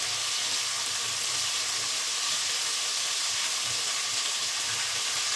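Chicken fries KFC style in hot oil, giving a steady, dense sizzling hiss that stays even and close throughout, with faint low bubbling beneath and no voices.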